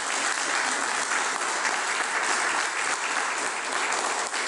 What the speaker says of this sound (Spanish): creo que Reinaldo merece un fuerte aplauso por eso